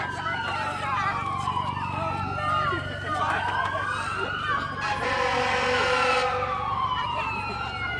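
Fire engine siren arriving at a staged crash scene for a high school DUI assembly, wailing sweeps rising and falling repeatedly, fairly close and loud, over a low engine rumble.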